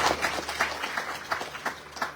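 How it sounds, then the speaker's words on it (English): Audience applause for a team of musicians at a Sharad Navaratri night gathering in a Hindu mandir, a moderate patter of clapping with distinct bursts, steady and fairly close. "Show them your appreciation and give them a lovely round of applause."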